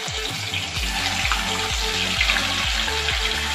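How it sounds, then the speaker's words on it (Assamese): Spices and bay leaves fry in hot oil for an Assamese non-vegetarian thali, making a continuous sizzle with a low, rhythmic bubbling underneath and no talking. "মশলাখিনি তেতিয়ালৈকে ভাজিম যেতিয়ালৈকে কেঁচা গোন্ধটো নাযায়"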